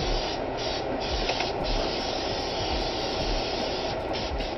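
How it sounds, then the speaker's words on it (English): Canola oil cooking spray hisses from an aerosol can into a baking pan in one continuous close spray with slight pulsing, and no talking. "Spray this down."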